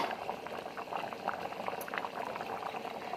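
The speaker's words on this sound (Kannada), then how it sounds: "ಇದು ಅವರೆಕಾಳು ಸಾರು ಕುದೀತಾ ಇದೆ" Field bean (avarekalu) huli sambar boils in a pot, producing a steady, close bubbling and popping that continues evenly throughout without any voices.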